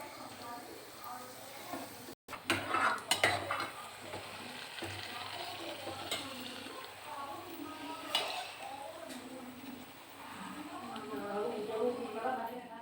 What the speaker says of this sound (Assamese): এতিয়া এখন এখনকৈ ইয়াতে ফ্ৰাই কৰিম।